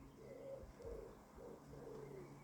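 A wild pigeon coos softly in a garden, repeating low, hollow calls in an even rhythm over a quiet background hum.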